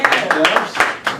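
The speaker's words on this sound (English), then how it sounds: "You clap that out" People in a barbershop clap a quick run of sharp hand claps, about half a dozen in a little over a second, with voices mixed in.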